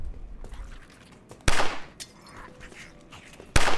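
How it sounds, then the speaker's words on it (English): Gunfire in the video game Fort Zombie: two loud, sharp bursts stand out a couple of seconds apart, with fainter crackling shots and rumbling in the background between them, no talking. "I'm getting nervous leaving you guys alone with that gunfire"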